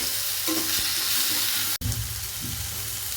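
Mustard seeds and onions frying in hot oil, a steady close sizzle with faint stirring scrapes and a sharp click midway, no talking over it.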